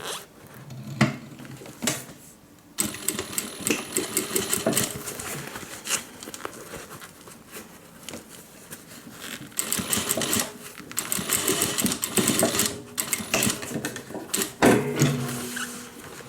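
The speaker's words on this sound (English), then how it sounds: "I'm going to sew as close to the middle as my machine will allow" Sewing machine stitching the side seams of a homemade fabric cabin bag, a fast mechanical whirring in bursts with brief pauses and handling rustles, close and moderately quiet with no talk.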